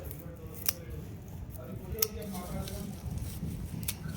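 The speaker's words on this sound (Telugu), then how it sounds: "కత్తెరతో కట్ చేద్దాం. ఇక్కడ చూస్తున్నారు కదా, నేను ఈ మొదలు కాడికైతే కట్ చేసేస్తున్నాను." Scissors snip through the base of weed stems in a garden, giving a few sharp, close clicks over a low rustling background.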